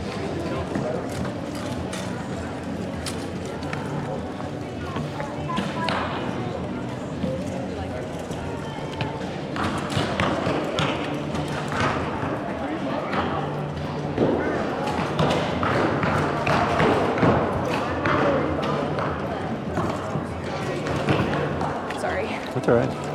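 Archers loose practice arrows into targets at a large archery tournament, with repeated dull thuds landing irregularly over a steady murmur of crowd chatter and voices throughout.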